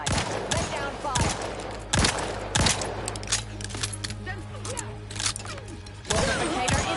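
Gunfire in The Outer Worlds 2 sci-fi shooter: sharp repeated shots and bursts with a steady low hum beneath, a loud volley near the start and again near the end.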